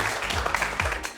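A studio audience at a Korean science lecture show claps to welcome two guests, a short dense burst of applause with a few murmured voices underneath.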